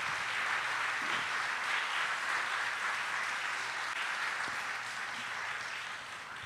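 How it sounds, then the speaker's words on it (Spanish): Sustained applause from a seated audience at a literary panel discussion, a steady dense wash of clapping that holds evenly throughout and tapers slightly at the end, with no voices. "quiero pedirles un fuerte aplauso para todos"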